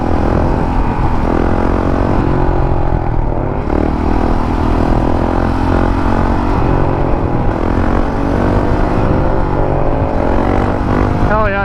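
A Honda CRF 450L motorcycle engine roars loud and continuous during wheelie practice in a parking lot, with the pitch rising and falling as the throttle is worked and a brief dip partway through.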